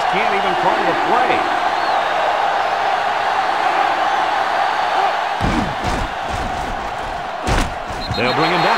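Stadium crowd in NCAA Football 2005 during a South Carolina vs. Clemson rivalry game roars steadily as a loud, continuous wash, with announcers talking over it and sharper bursts of noise near the end.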